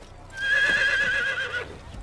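Horse in Assassin's Creed giving a single loud, close whinny lasting about a second, with faint hoof clops underneath and no talking.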